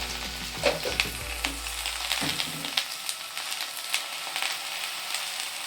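Mustard seeds and cumin sizzle in about three tablespoons of hot oil for a okra stir-fry, giving a dense close crackle with a few sharper pops as the seeds splutter, while a low rumble fades out early.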